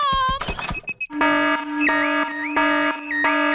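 A loud electronic house alarm in Toca Life World blares in repeating rising-and-falling tones, steady and continuous for several seconds after a brief clatter at the start.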